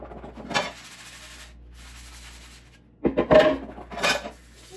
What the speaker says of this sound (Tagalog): Ito, hugasan ko lang siya guys. Hindi ko siya lalagay sa dishwasher.